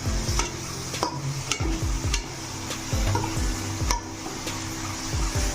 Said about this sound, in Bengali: ভালো করে এবার নাড়তে থাকবো, মশলা কষাবো।